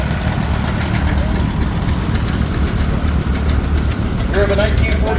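A 1947 John Deere A tractor at a steam power show idles with a loud, steady low rumble and a continuous throb. Faint background sounds and chatter sit underneath, with a brief higher tone near the end.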